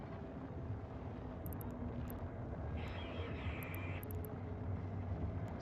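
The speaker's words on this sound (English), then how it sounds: "Let's click the afterburner. Get there a little quicker." A spaceship afterburner in the EVE Online video game, a steady low roaring engine drone, fairly quiet and continuous, with faint high electronic blips over it.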